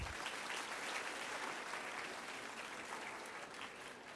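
Steady, dense applause from a large audience at a career counselling programme, sustained at an even level throughout with no pauses.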